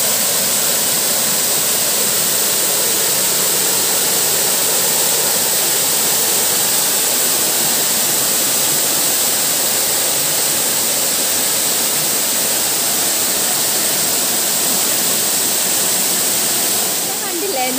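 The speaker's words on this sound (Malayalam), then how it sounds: "വെള്ളം ചാടുന്ന സൗണ്ട് കാരണം ഞാൻ പറയുന്ന അത്ര ക്ലിയർ ആണോ എന്ന് അറിയത്തില്ല." Water rushes over Anayadikuthu waterfall near Thodupuzha in a loud, unbroken roar that stays steady from start to finish.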